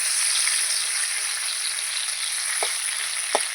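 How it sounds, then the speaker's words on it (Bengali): Pointed gourd fries in a pan with a steady, bright sizzle, and two quick scraping taps of a utensil come near the end. "পটলগুলোকে কিন্তু আমি নেড়ে চেড়ে ভালো করে লাল লাল করে ভাজছি"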